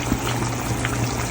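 Tinola soup with malunggay bubbling in a cooking pot, a steady, close simmer with a faint low hum beneath the continuous boiling texture.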